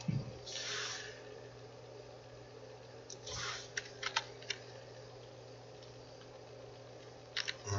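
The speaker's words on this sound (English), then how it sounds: "you're going to type in production, sturgeon production, so I'm going to do that now" Computer keyboard typing in short irregular bursts at moderate distance, with a few isolated clicks and pauses between keystroke clusters over a low steady room hum.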